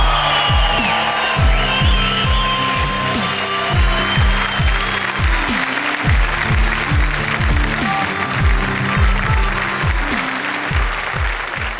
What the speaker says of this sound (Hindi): आपकी तालियां सुनकर